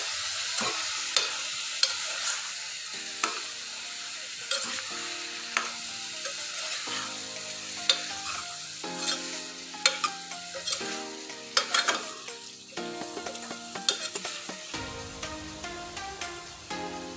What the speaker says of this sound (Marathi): हे परतवून घ्यायचे आहेत वांगे चिरलेले